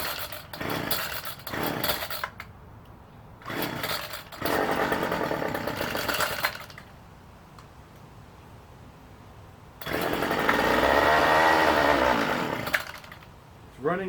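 A two-stroke engine on a 50-50 gas mix buzzes loudly in bursts, revving high, then idling quieter between runs, with a long sustained high-rev run near the end.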